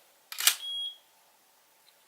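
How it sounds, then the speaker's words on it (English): A Sony HVL-F60RM flash gun fires with a single short burst, then gives one clear electronic beep, alone in a quiet room. "when the flash fires, it beeps"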